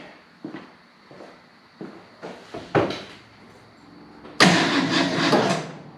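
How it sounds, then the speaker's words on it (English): A 1970 Ford F250 dually engine cranks over in a series of short starter bursts that build into a loud, sustained churning near the end, heard up close with no talk. "Let me crank over one more time."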